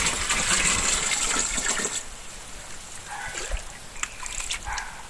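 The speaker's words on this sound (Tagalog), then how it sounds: "Ang gilid ng sapa." Mountain creek water rushing and trickling beside the bank near an irrigation dam, a steady close wash of flow that thins into softer dribbling, with no talk over it.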